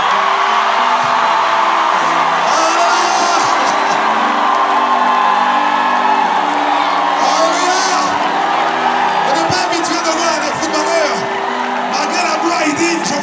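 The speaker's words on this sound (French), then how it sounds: "Acclamez pour Samuel Eto'o." A large crowd roars and cheers loudly and continuously for footballer Samuel Eto'o at an outdoor church gathering, Kanguka Cotonou 2025, with whoops and yells over an amplified voice.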